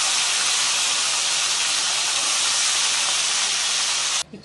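Mustard seeds and urad dal sizzling in hot oil for a tempering, a loud, steady, close hiss that stops abruptly near the end.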